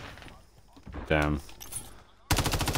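Gunfire in Call of Duty: Modern Warfare 3 with an MTZ-556 rifle, a loud close burst at mid-clip and another rapid automatic burst at the end, with faint game sounds between.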